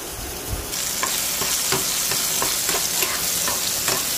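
Brinjal pieces fry in hot oil in a pan, a steady loud sizzle with the spoon scraping and stirring in regular strokes about every half second.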